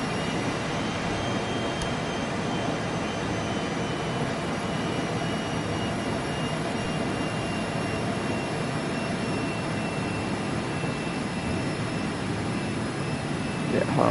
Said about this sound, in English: Let me land the aircraft real quick.